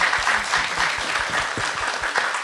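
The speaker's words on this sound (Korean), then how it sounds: "큰 박수 부탁드립니다. 연상호 감독님께." Applause from an audience at a Korean event for director Yeon Sang-ho, a brief burst of many hands clapping with some individual claps standing out near the front.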